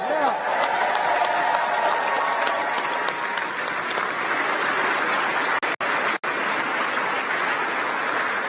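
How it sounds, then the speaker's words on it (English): An audience at NASA's Artemis II crew reveal breaks into sustained, loud applause. The crowd claps steadily throughout, with a few whoops and voices mixed in and two brief dropouts near the end. "Let's give them another round of applause."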